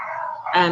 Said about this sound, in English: sorry about the dogs, also they live next door